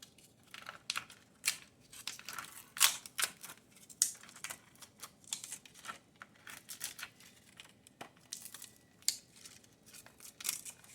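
A plastic wrapper is peeled off a cast concrete garden mushroom, giving bursts of crinkling, tearing and crackling at close range, irregular and stop-start with quiet gaps between pulls.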